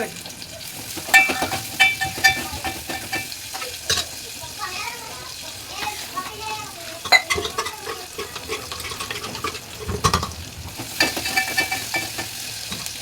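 Mustard seeds splutter in hot oil, a dense, steady crackling sizzle that runs throughout, mixed with stirring and scraping in the pan.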